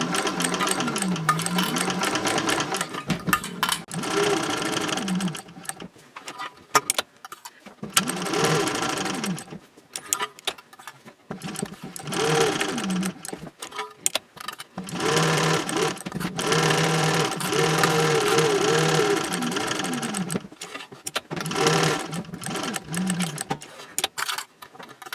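Sewing machine basting a seam at a 5.0 stitch length with backstitching at both ends: bursts of rapid mechanical whirring and clatter, stopping and restarting several times, close and steady between pauses.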